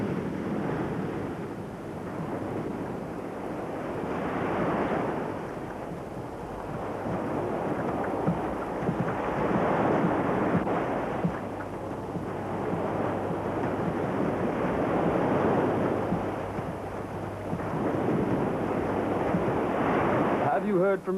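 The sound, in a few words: waves breaking on a beach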